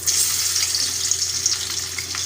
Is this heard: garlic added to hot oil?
yes